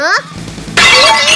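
Cartoon TV set smashing: a sudden bright shattering crash of breaking glass and debris bursts in near the end, loud and close, following a brief whistling tone and a cartoonish voice at the start.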